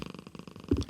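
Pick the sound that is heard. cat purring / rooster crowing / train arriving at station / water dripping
cat purring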